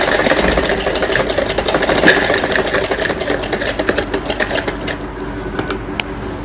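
A sewing machine stitches a child's night suit with a steady, fast mechanical whirr and ticking needle rhythm, fairly loud and close, easing off slightly toward the end, with no talking.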